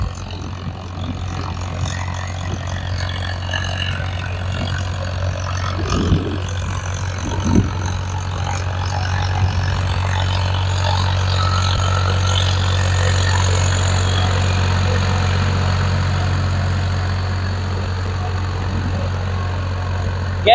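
A Farmtrac 60 diesel tractor engine runs steadily with a low, constant rumble throughout, fairly loud and close, with a few faint knocks and clatters along the way.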